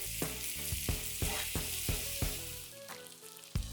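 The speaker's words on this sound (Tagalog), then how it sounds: "Niluluto ko lang tong beef ng mga 40 to 90 seconds per side." Beef strips searing in a hot pan for a beef and broccoli stir-fry, a steady loud sizzle broken by repeated scraping stirs, continuous and close with no talking.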